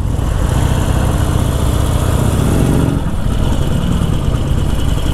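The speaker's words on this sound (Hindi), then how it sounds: "इसका गियर शिफ्ट की आवाज़ सुनो" A Harley-Davidson 1200 Custom motorcycle engine runs steadily and loud on its first ride, a continuous low rumbling throb with a slight shift in tone midway, no voices over it.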